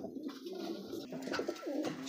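A pair of high-flying racing pigeons coo softly nearby in short, throaty rolling calls, with faint background noise and no speech.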